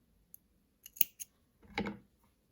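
Scissors snip through yarn after a crochet feather is finished, giving a few quiet, crisp clicks followed by a single longer cut, close and isolated in an otherwise silent room.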